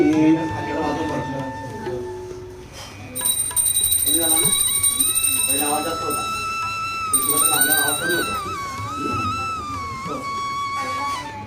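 A brass puja bell rings steadily during Ganesh Chaturthi home worship, its bright sustained tones layered over a chanting voice and the murmur of people nearby.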